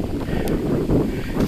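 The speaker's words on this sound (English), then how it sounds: "And the wind's blowing." Wind gusts across a backyard vegetable garden with tomato plants and sunflowers, a rough low rumble buffeting the microphone continuously with no speech.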